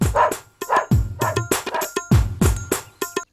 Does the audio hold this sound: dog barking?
yes